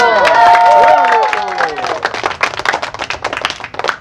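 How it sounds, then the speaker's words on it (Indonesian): An audience at a comedy show bursts into clapping with some cheering, the applause rising over voices and tones at first, then continuing as scattered rhythmic claps. "Tepuk tangan dong."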